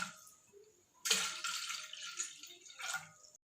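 Two glasses of water are poured into a cooking pot, a steady splashing stream that runs close and clear, with brief pauses, and no one speaks.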